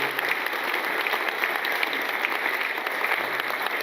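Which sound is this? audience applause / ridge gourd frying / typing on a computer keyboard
audience applause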